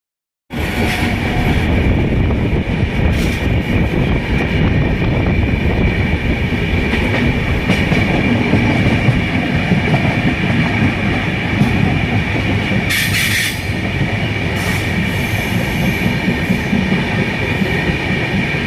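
Inside an AC 3 economy coach of a moving passenger train running from Mumbai to Howrah, a loud, steady rumble and rattle of wheels on rails continues throughout, with occasional sharper clatters and no talk.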